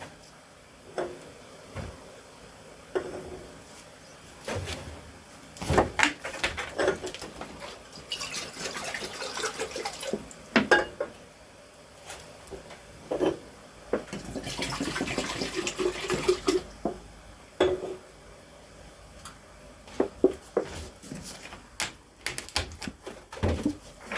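Red-hot incinerated material is poured into a beaker of liquid during gold refining and recovery, giving scattered clinks, hisses and bursts of sizzling spread unevenly across a long stretch, close and moderately loud.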